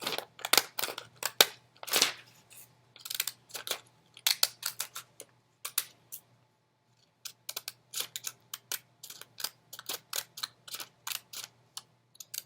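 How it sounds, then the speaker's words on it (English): Scissors snip out a paper rectangle for a bookmark, making quick crisp cuts in irregular clusters, close up and fairly quiet with brief pauses. "So I am just going to cut out my rectangle shape for the"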